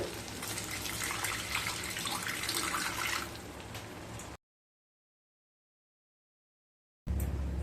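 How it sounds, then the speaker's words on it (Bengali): A little water is poured into frying fish curry masala for a katla fish dish, giving a steady splashing rush for about four seconds, then silence, then a brief return. "এবার দিয়ে দেবো খুব সামান্য জল"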